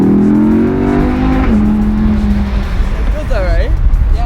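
An Audi R8 V10+ accelerates at partial throttle, around a quarter to a third, its steady engine drone close and loud, then dropping in pitch as the revs change, with people talking over it.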